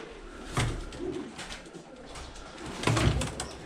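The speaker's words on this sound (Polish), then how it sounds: "No tu jest jeszcze gołąbek z rasy tego właśnie pana Katerli" Racing pigeons in a loft coo softly, with two fuller bursts of cooing near the start and end over a low, steady background murmur, and no talking.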